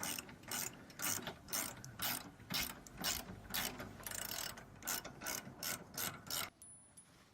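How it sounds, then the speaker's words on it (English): A 15/16-inch wrench ratchets a bolt on a bike rack hitch, its pawl clicking in steady, rapid bursts close by, each run of clicks broken by brief pauses. "My 15 by 16 inch wrench will do the trick"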